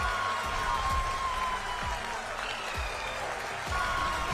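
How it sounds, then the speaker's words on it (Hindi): Sustained applause from a crowd at ISRO's telemetry, tracking and command network in Bengaluru celebrating the Chandrayaan 3 landing, a steady dense clapping wash with faint voices mixed in. "तालियां बजने लगी, नॉनस्टॉप बजी"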